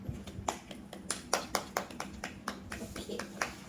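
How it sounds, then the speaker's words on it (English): Hands clap during a children's alphabet lesson, producing a loose series of sharp, close claps at an uneven rhythm from a small group rather than a full crowd. "Clap your hand."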